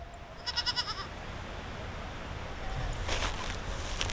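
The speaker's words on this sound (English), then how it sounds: "The goats have heard my call now." Goats bleating in a backyard turned into a pasture, a short burst of several quick calls early on followed by a rougher, noisier call near the end, moderately loud over a steady outdoor background.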